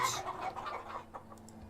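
Chickens clucking at a chicken hut in the Farthest Frontier video game, soft repeated clucks over a low steady game ambience, fairly quiet and close.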